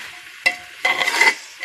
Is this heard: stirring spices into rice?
yes